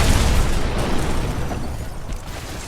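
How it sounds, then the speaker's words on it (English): Video game explosion from Batman: Arkham Asylum as a wall is blown open, a loud, dense burst with a rumbling low end that stays heavy and slowly fades over about three seconds. "until at last I stumbled upon the spot I was supposed to explode."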